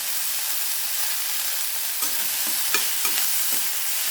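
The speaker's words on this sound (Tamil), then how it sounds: "ஒரு நிமிஷத்துக்கு வந்து இந்த எண்ணெயில் நல்லா வதங்கும்" Broad beans sautéing in oil in a pan, a steady bright sizzle throughout with a few brief stirring scrapes toward the end, close by and with no voices.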